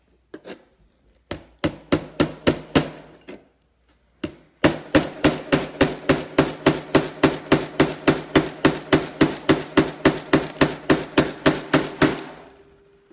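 Hammer striking nails into an old wooden picture frame in a shop, short bursts of blows followed by a long steady run of sharp, loud, evenly spaced strikes close up.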